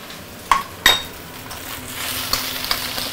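Luffa stir-fried with half-cooked egg in a pan, a soft continuous sizzle with two sharp utensil scrapes near the start and light clinks later, all close and fairly quiet.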